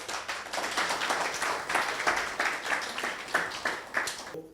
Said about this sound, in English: Strong round of applause, please.